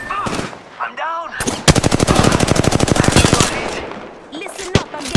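Rapid automatic gunfire in the video game Apex Legends, a loud sustained burst of evenly spaced shots lasting a couple of seconds, framed by a few scattered single shots and brief game sounds before and after.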